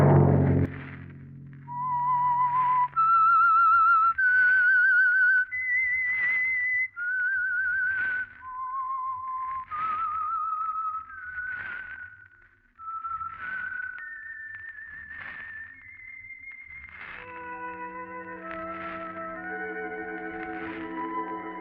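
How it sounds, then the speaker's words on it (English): A lone whistled melody, the eerie signature theme of the 1940s radio mystery show The Whistler, rises and falls in slow sustained notes with heavy echo before a soft orchestral chord closes it out. "Let that whistle be your signal for the Whistler, each Wednesday night at this same time."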